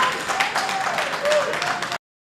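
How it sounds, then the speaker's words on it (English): Applause from a meeting audience for a committee member, a steady patter of many hands clapping at moderate volume for about two seconds, with a faint tone and some voices mixed in. "Okay, please do clap for your own."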